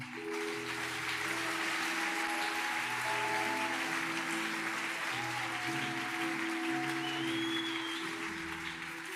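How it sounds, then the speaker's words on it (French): Church congregation applauding in praise of the Lord at a service, a sustained wash of clapping from many hands that holds steady throughout, with sustained musical tones beneath. "Nous acclamons le Seigneur."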